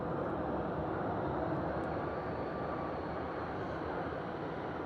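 A steady, fairly distant jet engine rumble with a broad hiss from a Lauda Air airliner moving toward the runway at Vienna International Airport, heard from a visitors terrace with no talking.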